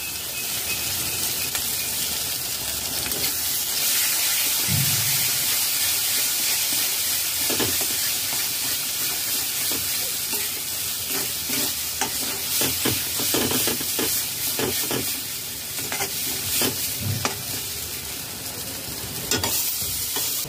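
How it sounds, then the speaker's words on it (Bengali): Tomato puree fries in a pan with a steady loud sizzle and hiss while a spoon stirs and scrapes through it in irregular strokes, close by and with no one speaking. "টমেটো পিউরি দিয়ে 2 মিনিট নাড়াচাড়া করে নিয়েছি।"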